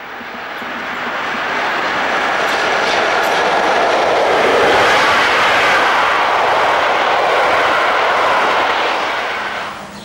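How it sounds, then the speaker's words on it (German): An ÖBB class 4010 electric railcar on the Salzburg–Kufstein corridor passes close by, its loud, smooth rushing roar swelling, holding steady and easing off over about ten seconds, with no talking. "die Korridorzüge der ÖBB, die zwischen Salzburg und Kufstein verkehrten, mit dem elektrischen Triebwagen der Reihe 4010"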